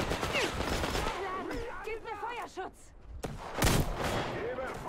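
Gunfire in the post-apocalyptic shooter game Metro Exodus, a few sharp broadband shots bursting out among game voices and talk, with a loud crack near the end.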